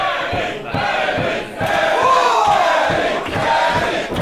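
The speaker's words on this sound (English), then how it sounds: "You hear this crowd behind Emi" A wrestling crowd at an AEW event in a Jamie Hayter vs Emi Sakura match chants and cheers loudly for Emi Sakura in rhythmic waves, with a sustained roar filling the arena.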